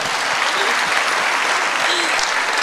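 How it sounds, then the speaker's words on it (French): An audience breaks into dense, lively applause that holds strong and steady for a few seconds, close and full with no pause. "ça s'applaudit ça quand même"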